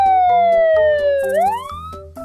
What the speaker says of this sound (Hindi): इतने में जमीन के ऊपर पुलिस सायरन सुनाई देती है।